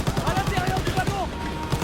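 Rapid bursts of machine gun fire rattle in a World War II shooter set on a train at Falaise, France, 1944, a quick evenly spaced volley with voices faintly mixed in.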